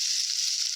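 Potatoes frying in a pan while cooking a vegetarian paneer dish, giving a bright, continuous hissing sizzle that stays even and close for a brief moment, with no voices.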